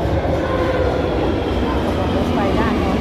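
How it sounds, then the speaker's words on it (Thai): A subway train rumbles into a Madrid metro station, a steady low roar filling the space with faint squeals on top and some background voices. "รถไฟด้านโน้นมาแล้วค่ะ"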